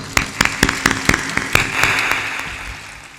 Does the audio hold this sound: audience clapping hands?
yes